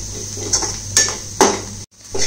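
Maggi masala noodle filling being mixed in a pan, with a few distinct metal-on-pan clinks and scrapes from a spoon over a steady low hum, close by, followed by a brief dropout and no talking.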